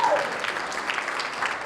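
A seated audience at a wealth-building event gives a steady, moderately loud round of applause that continues evenly for the whole stretch without pause.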